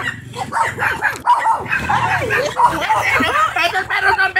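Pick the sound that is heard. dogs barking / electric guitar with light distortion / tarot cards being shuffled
dogs barking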